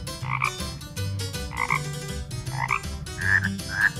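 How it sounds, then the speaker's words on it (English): Frog croaking in the Hay Day farm game: a series of rhythmic, nasal croaks repeating about twice per second, clear and close, with no talking over it. "Lavinia is croaking like a frog."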